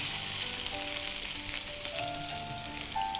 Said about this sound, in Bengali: আমার তেলটা গরম হয়ে গেছে আমি এখানে এক কাপের মতো কিউব করা পেঁয়াজ দিয়ে দিচ্ছি